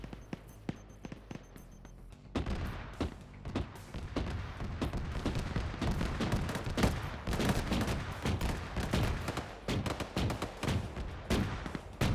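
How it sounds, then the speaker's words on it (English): Gunfire in a military shooter video game: dense rattling bursts and rapid shots with crackling impacts, sustained and busy after a quieter opening, moderately loud without speech. "Some more shots going out."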